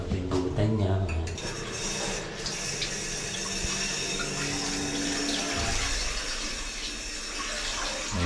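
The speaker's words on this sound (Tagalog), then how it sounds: "Yung shower nila guys" Hotel resort shower running steadily, a constant hiss of spraying water with soft clatter early on, under a speaking voice.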